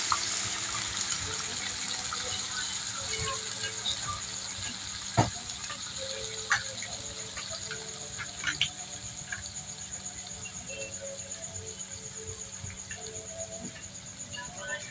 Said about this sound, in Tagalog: ibubuhos lang natin yung ating pineapple juice.